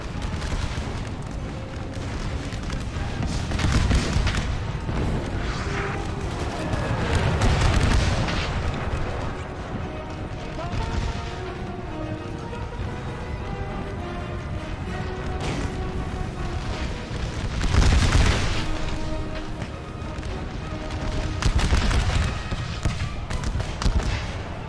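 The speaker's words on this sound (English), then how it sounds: "Solid volleys from both sides." Musket volleys and artillery booms from a Total War: American Civil War battle, with dense crackling gunfire and heavy low blasts, swelling into louder surges at intervals under a busy, layered game soundscape.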